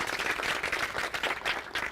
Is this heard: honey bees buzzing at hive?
no